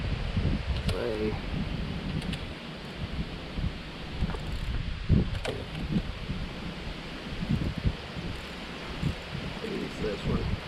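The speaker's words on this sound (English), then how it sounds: "Getting windy, and man, does it feel good." Steady outdoor wind gusting across the microphone while someone works on installing a diesel transfer tank and electric pump, a broad rushing noise throughout with a voice talking over it.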